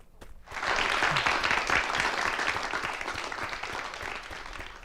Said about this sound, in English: Give her some applause